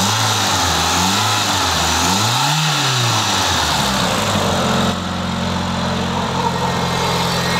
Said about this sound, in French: ça fait quand même 20 minutes, une demi-heure qu'elle tourne au ralenti.